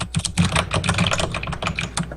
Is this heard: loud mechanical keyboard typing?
yes